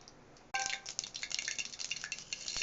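Mustard seeds hit hot oil in a pan with a sudden onset, then crackle and pop in quick irregular bursts, close and fairly quiet, without any talking.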